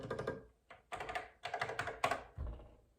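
Keys clatter on a Commodore 64 Ultimate keyboard in several quick bursts of close, crisp typing that stop and start with short pauses, with no talk over them.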